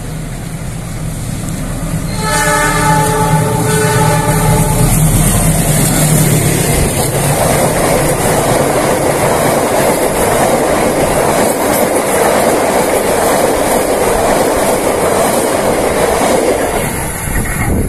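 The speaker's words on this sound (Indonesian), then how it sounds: "Kereta lagi datang melewati stasiun Gadu Bangkong." Argo Parahyangan passenger train on the Jakarta–Bandung line rushing past Gadu Bangkong station beneath high-speed rail viaduct pillars, starting with a horn-like tone then a loud, sustained roar with rail rumble and clatter lasting many seconds.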